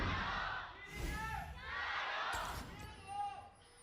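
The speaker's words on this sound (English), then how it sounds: "The crowd, there they go." Esports arena crowd at a 2018 LPL Spring Split match between Bilibili Gaming and Edward Gaming, cheering and roaring in swelling waves across the whole stretch, loud and dense, with voices rising and falling.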